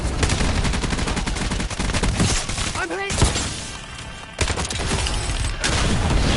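Sustained automatic gunfire in the video game Warzone, dense rapid bursts filling most of the stretch with a brief lull midway, loud and close, with a voice speaking under the shots.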